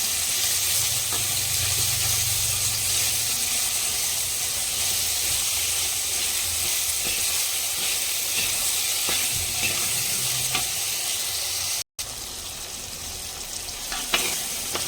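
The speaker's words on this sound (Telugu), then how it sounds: "కొద్దిగా ఉప్పు యాడ్ చేసి మనము ఫ్రై చేసుకున్నాం" Salted, spiced katla fish fries in a pan with a constant loud sizzle and hiss, a few faint clicks and a brief cut near the end, no voices.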